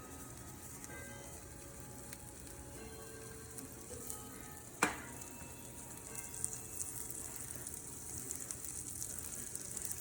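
Yellowfin tuna frying in a nonstick-sprayed pan, a quiet continuous sizzle with one sharp clack midway and light crackling afterward.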